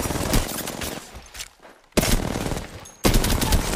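Automatic weapon fire in the Apex Legends shooter game: two dense, loud bursts of rapid shots, a brief lull, then a third burst starting abruptly, close and without speech.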